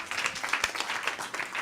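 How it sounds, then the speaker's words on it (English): Audience applause at a live high-ticket sales training event, a steady dense wash of clapping from a crowd, moderately loud and continuous throughout. "Well, applause."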